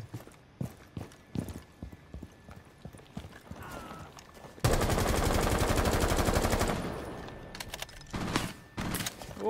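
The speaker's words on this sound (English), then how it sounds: "Oh, I'm getting shot at." Video game gunfire in a 4v5 match: scattered single shots and clicks, then a long loud sustained automatic burst lasting several seconds, followed by a few sparse cracks.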